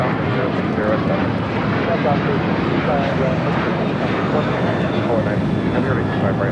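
An airliner takes off from LAX runway 25 right, a broad, loud, sustained engine roar with steady rumble and hiss. Voices can be heard faintly under the noise.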